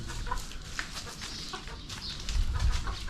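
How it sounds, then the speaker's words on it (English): Chickens cluck softly around a rural village home in Isaan, Thailand, with scattered short calls over a steady outdoor background and a low rumble near the end. "We got some little chickens over here."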